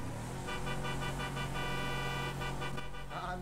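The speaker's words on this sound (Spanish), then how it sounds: "Está viendo que anda bien la bocina." A car horn honks repeatedly in short, even bursts during a car inspection, loud and close against a steady engine hum, with no talking over it.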